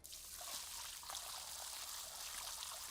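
Water pouring and splashing indoors, a steady faint hissing stream with light trickling, continuous for a few seconds without talking.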